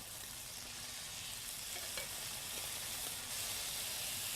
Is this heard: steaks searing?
yes